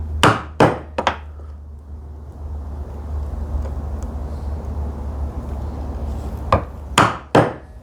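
A chisel is struck into wood at a knife wall during hand-tool work on a TV unit, giving sharp, close knocks in two short clusters at the start and end with a quiet, steady background hum in between.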